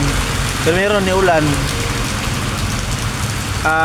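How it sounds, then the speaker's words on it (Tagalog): Heavy rain pours steadily in Cagayan De Oro City at night, a dense loud hiss throughout, while someone speaks briefly over it. "Grabe nga ulan"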